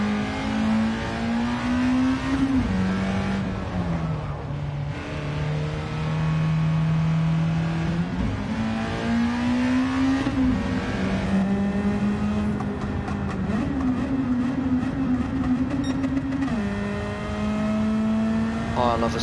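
A Honda Civic EK engine in Gran Turismo 7 drones loudly and without a break, its pitch climbing and dropping with each gear change as it revs through a race.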